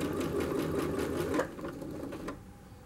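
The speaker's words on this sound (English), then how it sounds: "I'm going to sew along the original sew line" A sewing machine sews along the original seam line of a tulle skirt, giving a close, steady rapid whir for about a second and a half before it slows and trails off.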